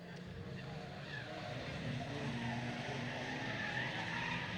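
Race cars run at Bovingdon Raceway, with a Vauxhall rounding the pits bend, their engines a distant continuous roar with tyre scrubbing, heard under a commentator's talk.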